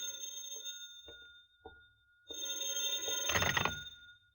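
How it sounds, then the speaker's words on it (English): An old-fashioned telephone bell rings in short separate bursts, then breaks into a long, loud, continuous ring that builds to a clattering peak before stopping, heard alone in a quiet room. "you nervously await the phone call you're certain you'll receive"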